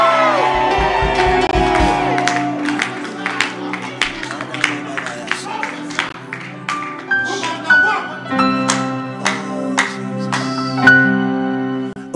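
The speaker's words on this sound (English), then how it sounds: "Lift your leg and scream." A church congregation at an all-night prophetic service screams and shouts loudly, with whoops and scattered clapping over sustained music and voices.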